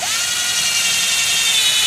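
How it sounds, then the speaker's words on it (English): Cordless hand drill boring into a hardwood log, a steady high-pitched motor whine held close and loud throughout with no pauses, no talking. "Make sure your batteries are charged on your cordless hand drill before you start this project"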